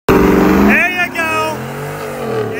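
Cummins diesel truck revving hard during a street burnout, a loud sustained engine roar with the pitch climbing and falling, close by with people shouting over it.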